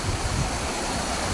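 River water rushes at a dam where people are bathing and washing clothes, a dense, steady roar of flowing water, loud and close with no voices.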